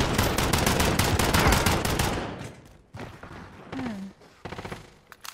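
Rapid bursts of gunfire in the video game Call of Duty: Modern Warfare crackle loudly for about two seconds, then thin out into scattered distant shots and game sounds.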